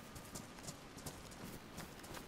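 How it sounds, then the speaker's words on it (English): A horse's hooves clip-clop in the survival video game DayZ, a quick, regular trotting rhythm that stays steady and fairly close. "Horse."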